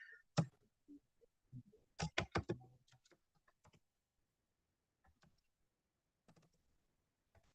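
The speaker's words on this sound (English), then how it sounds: "I'm typing this." Sparse computer keyboard keystrokes typed at a desk: a few isolated taps, then a quick cluster of clicks, then scattered soft taps trailing off into quiet, with no voices.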